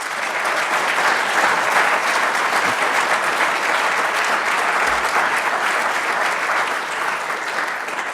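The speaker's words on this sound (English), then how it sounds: "if you wouldn't mind giving the presenters a round of applause" Sustained audience applause for presenters at a rail industry innovation and research seminar, dense even clapping from a room of people, loud and unbroken for about eight seconds.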